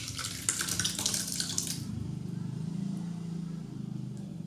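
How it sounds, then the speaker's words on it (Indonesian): Pearl sago being rinsed under running water from a tap, a steady close splashing stream that is loudest early on and settles into a softer, continuous flow. "Bilas menggunakan air matang supaya nggak saling menempel."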